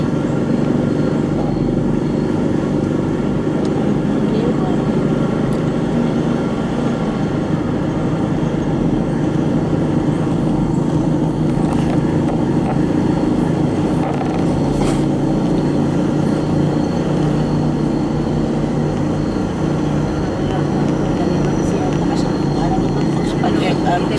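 A motorcycle rides on the road between Marines Resort and Naic with a continuous, fairly loud engine drone and road noise. People talk over it throughout.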